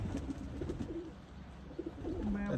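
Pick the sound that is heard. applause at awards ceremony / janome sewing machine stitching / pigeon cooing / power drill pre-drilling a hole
pigeon cooing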